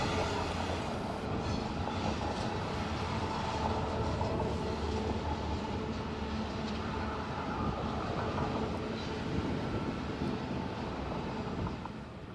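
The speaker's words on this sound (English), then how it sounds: "It's unusual to see both ends of a train that is nearly 2 miles long" A nearly two-mile-long BNSF container freight train rolling through Cajon Pass, a loud continuous rumble and rattle of wagons that holds steady throughout, with rhythmic wheel clatter and no voices.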